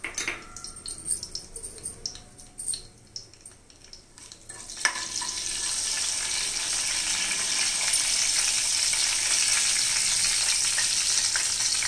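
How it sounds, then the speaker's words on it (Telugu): Cumin and mustard seeds crackle in hot oil in a pan for a curry tempering; after scattered sharp pops and taps, a loud, steady hiss of frying takes over and holds close and continuous to the end. "శనగపప్పు వేసుకుని ఇవి కొంచెం వేగిన తర్వాత"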